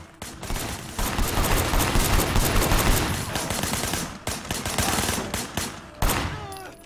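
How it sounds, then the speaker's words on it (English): Heavy bursts of automatic gunfire and shots in the Sleeping Dogs video game, a dense loud barrage lasting several seconds with brief gaps before resuming. "Shooting at the guys over there."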